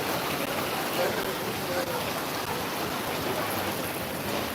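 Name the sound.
rain falling in Hong Kong street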